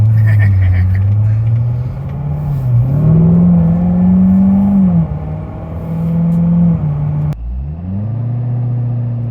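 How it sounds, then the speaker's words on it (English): Engine of a 2017 C7 Corvette droning and rising under throttle from inside the cabin, with a steady low growl, changing pitch, wind noise and interior rattles, and a brief drop near the end. "All this plastic in here and all the engine growling and stuff."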